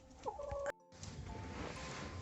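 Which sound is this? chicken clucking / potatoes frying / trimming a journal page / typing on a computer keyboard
chicken clucking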